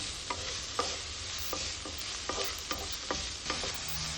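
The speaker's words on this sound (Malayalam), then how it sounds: "അതിനുശേഷം നമ്മൾ സവോള പിന്നെ കുറച്ച് ക്യാബേജും എടുത്തിട്ടാണ് ആദ്യം വഴറ്റുന്നത്" Onion and cabbage sauté in a hot pan with a steady broadband sizzle, punctuated by about eight sharp spatula scrapes and knocks at a loose, uneven rhythm, close and moderately loud, with no voices.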